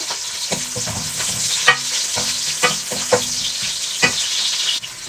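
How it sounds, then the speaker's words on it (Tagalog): Garlic sautéing in a pan for pork binagoongan gives a loud, close sizzle, with a sharp stirring scrape roughly every second and no talking over it. "Sinagin natin ang ating garlic."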